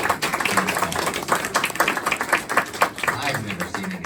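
Audience applause at a donor wall talk in St. Paul's, Syracuse, a moderate patter of clapping from a small crowd, with talking mixed in over it.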